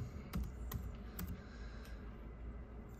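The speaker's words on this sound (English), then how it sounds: "If we go into our search bar, I'm just going to type in Bluetooth." Light keystrokes on a laptop computer keyboard while entering a word into a search bar: a handful of quick, quiet clicks in an irregular rhythm, close by and without talk.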